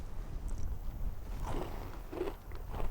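Faint, close crunching of something crisp being bitten and chewed, a few brittle crunches over a quiet background.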